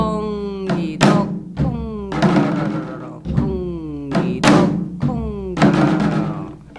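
A Korean janggu drum plays the gutgeori rhythm to accompany a Korean folk song in the changbu taryeong style, with loud struck beats repeating in a steady lilting cycle under a voice.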